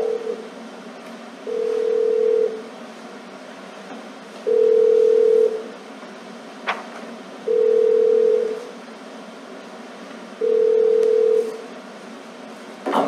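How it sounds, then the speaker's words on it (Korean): Phone ringback tone on an outgoing call: four long, steady beeps repeating at even intervals of about three seconds, fairly loud, with quiet gaps between and no talking over them. "그러면 영주형한테 전화를 한번 해보겠습니다."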